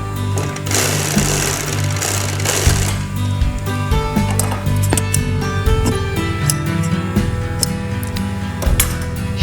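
Sewing machine stitching fabric during a home sewing job, a loud, steady motor whir with rapid needle chatter that runs almost without a break, close up and with no talk.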